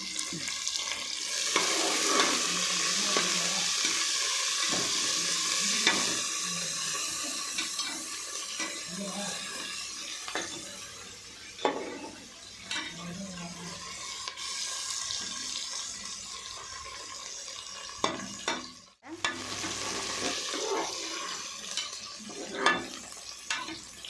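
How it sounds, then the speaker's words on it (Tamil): Onions sauté in a pan and are stirred repeatedly while goat leg soup is being made, giving a continuous loud sizzle broken by scraping strokes, a brief drop near the end, then renewed frying. "வெங்காயத்தை நல்லா கோல்டன் கலர் தங்க நிறத்துக்கு வர மாதிரி வதக்கணும்"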